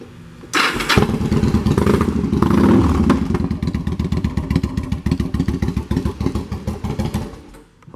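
A 2006 Yamaha V-Star 1100 Classic fitted with aftermarket exhaust pipes cranks and fires up close by, then settles into a loud, lumpy, rapidly pulsing idle that fades slightly at the end.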